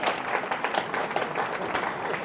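Audience applause fills a scholarship luncheon for health professions students, a steady dense patter of many hands clapping close by, continuous and fairly loud with no pause.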